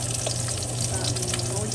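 Onion hits a hot pan and sizzles loudly and steadily, with bright crackling close by throughout a short burst and a faint voice underneath.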